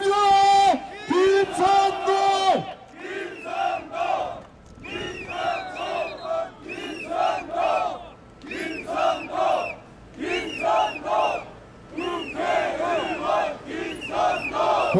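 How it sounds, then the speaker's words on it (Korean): Crowd at a Suncheon political rally for candidate Kim Seon-dong shouting and cheering loudly in rhythmic bursts, a collective roar that swells and dips repeatedly over the whole stretch. "다시 한번 뜨거운 함성 부탁드리겠습니다"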